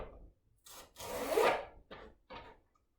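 Knife chopping celery on a wooden board for Greek chicken from Crete, a handful of dry, scraping cuts in short bursts with one longer stroke, close and fairly quiet.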